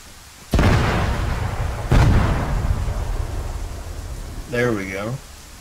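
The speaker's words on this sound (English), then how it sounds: "Just for the detonation." Explosive charges detonate in Arma 3: two loud, sharp blasts about a second and a half apart, each trailing off in a rumbling decay, followed by a brief voice.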